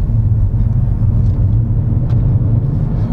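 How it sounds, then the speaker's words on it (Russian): Steady low engine rumble from inside an accelerating Mercedes-Benz C63 AMG, a continuous droning hum with road noise and no talking. "Продолжаем ускоряться."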